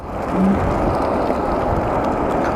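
A Segway Ninebot Gokart Pro 2nd generation electric go-kart pulling away in first gear, with a steady near electric motor whir and rolling noise that swells briefly early on, and no talk.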